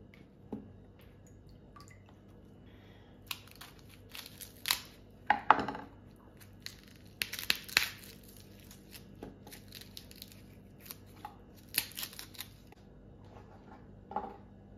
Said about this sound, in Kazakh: Енді сарымсағын аршимын.